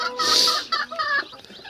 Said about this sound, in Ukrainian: Дивіться, які вони товстенькі, ці австралорпи.